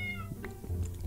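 A cat meows once or twice in the video game Minecraft, short and fairly clear over a low background hum.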